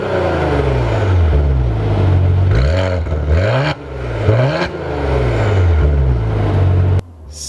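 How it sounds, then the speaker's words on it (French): A Maserati Levante with a turbocharged V6, sport mode engaged and exhaust valves open, revs hard in repeated loud climbing and falling bursts, its growl close and unbroken, then cutting off sharply near the end. "on va appuyer sur la petite touche du bouton sport, donc ça va avoir pour conséquence d'ouvrir les valves de l'échappement, donc faire beaucoup plus de bruit"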